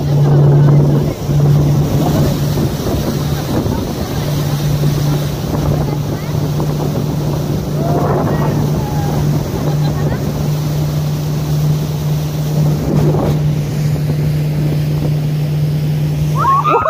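A 25-passenger boat runs on the Karnali river at Chisapani, its engine giving a steady low drone throughout, mixed with rushing water and wind buffeting the microphone, with faint background voices.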